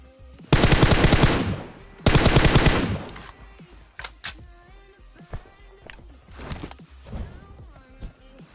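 Two long, loud bursts of automatic M4 rifle fire in a video game, each lasting over a second, followed by quieter scattered game sounds and faint footsteps.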